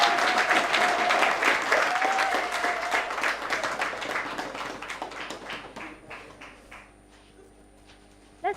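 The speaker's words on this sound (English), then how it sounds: "Murungi Sandra, we agree to clap for everyone." At a debate academy prize-giving, an audience applauds storytelling runners-up with sustained clapping that slowly thins out and fades to scattered claps near the end.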